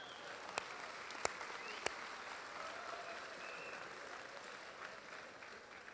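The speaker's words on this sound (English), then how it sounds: "give this group a big round of applause" Faint, distant applause fills a graduation ceremony hall in Knoxville, a soft steady patter of many hands with a few sharper isolated claps standing out early on.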